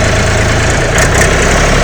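A Shifeng 244 tractor with a three-cylinder 24-horsepower engine runs at a steady idle, a loud, close, low-pitched throbbing rumble with continuous mechanical vibration and no voices.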